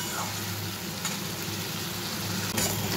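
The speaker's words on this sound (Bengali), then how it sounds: "এটা ভালো করে তো কষানো হচ্ছে।" A spice paste sautés in oil in a pan, giving a dense, continuous sizzle and crackle with faint stirring scrapes, close and moderately loud for the whole stretch.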